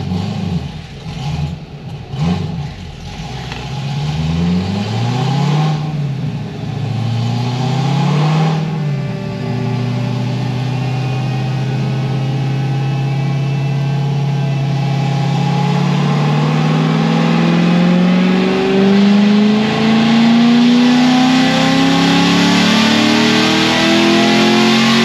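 An LS7 V8 car engine, running with some issues, revs hard on a cold pull, climbing from rough, clattery bursts into a long, loud, rising wail that stays close and dominant with no talking.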